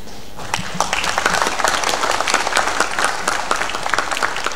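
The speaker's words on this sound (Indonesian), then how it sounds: "Kurang meriah tepuk tangannya sekali lagi" An audience claps at a college graduation ceremony in Cirebon, a lively burst of many hands with distinct individual claps standing out, fairly loud and continuous, with a faint voice or two mixed in.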